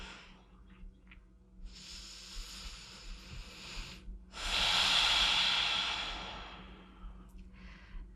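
Slow, relaxed breathing is heard close up during a guided self-treatment session for the inner thigh: a soft inhale, then a long, loud sighing exhale, followed by quieter breaths, with no talking.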